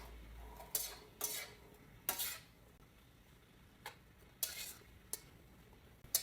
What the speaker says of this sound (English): So now we're just gonna toss that for about a couple minutes.